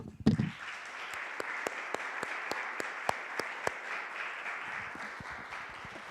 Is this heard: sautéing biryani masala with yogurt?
no